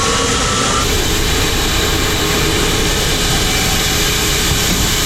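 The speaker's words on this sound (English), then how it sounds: "Is the second engine there on? Okay. Yep, it's running." Engine running and driving a pulley and belts on a construction site, a loud, constant droning roar with steady whine and rumble that holds unchanged for several seconds.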